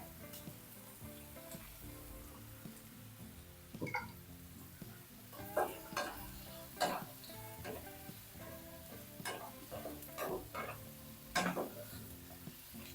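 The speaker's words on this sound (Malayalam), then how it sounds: "സവാള നല്ലതുപോലെ വഴന്നു വരണേ" Sliced onions sautéing in a pan, cooked until soft and light golden for a curry, give a steady frying sizzle with repeated scraping stirs and clinks of a spoon against the pan, close and alone.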